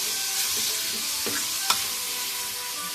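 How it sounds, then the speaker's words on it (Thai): Beans dry stir-fried in a pan for a fish dish, a soft steady sizzle with a few scraping stirs and one sharp clink, close and with no one talking. "มาผัดแล้วนะคะเราใส่ถั่วก่อนนะคะ"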